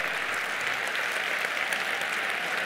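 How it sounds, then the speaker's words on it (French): Dense, even applause from a seated audience at a company success day gathering in Paris, a continuous wash of clapping with no breaks. "qu'on puisse vous applaudir en tant que diamant"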